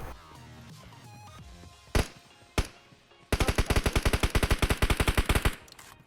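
Gunfire in a PUBG gunfight on the Erangel 2.0 map: two isolated loud shots, then a long rapid automatic burst of evenly spaced cracks, close and loud with no speech.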